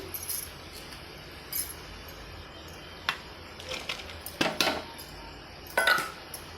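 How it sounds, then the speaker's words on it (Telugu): Pieces of bottle gourd go into a pot of simmering dal: scattered light clinks and soft taps against the pot, a few seconds apart, close by and with no talking. "ఇప్పుడు ఆనపకాయ ముక్కలు వేసుకుంటున్నాను"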